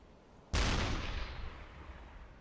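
A deck gun fires a single loud shot at a ship's waterline in the submarine game Uboat, with a sharp crack and a long rumbling decay.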